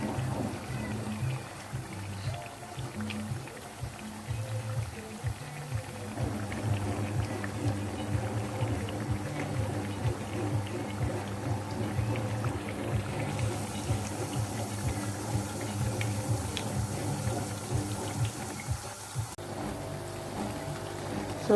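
Akara bean cakes fry in hot oil with a constant close bubbling sizzle that stays steady and fairly loud throughout, under some faint background noise, with no clear speech.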